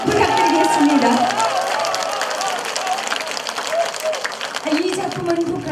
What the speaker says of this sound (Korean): 뜨거운 격려의 박수, 감사의 박수 부탁드리겠습니다.